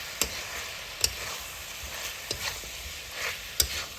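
Boiled pork with powdered spices frying in a pan for an Assamese pork dish, a soft sizzle broken by several sharp spatula clicks and scrapes against the pan.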